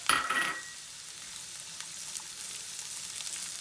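Chorizo hits a pan of golden-browned potatoes with a brief loud burst, then settles into a steady, fine crackling sizzle with small pops and no voices.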